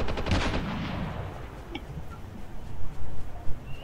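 Gunfire and explosions from the mobile game Call of Duty Mobile: a dense burst of shots and blasts at the start that fades into quieter scattered pops and rumbles.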